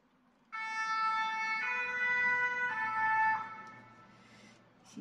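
Fire engine siren from a nearby fire station, a loud wailing two-tone siren that starts abruptly, holds steady for about three seconds and then fades as the vehicle moves away.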